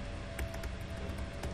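A handful of scattered keystrokes on a computer keyboard, typing a multiple-choice question in Microsoft Word, tap faintly over a steady background hum.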